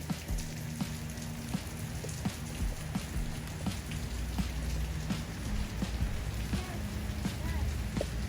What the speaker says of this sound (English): it decided to start raining